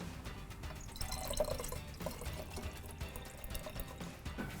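Fresh lime juice poured into a mix for sweet and sour, a soft, steady liquid trickle that runs for a few seconds close by with a faint background hum.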